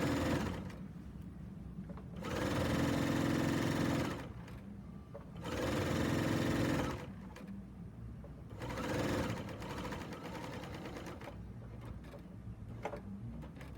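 A serger sews binding onto a quilt in three separate bursts of fast, steady whirring. Each burst lasts a couple of seconds, with quieter handling pauses between them.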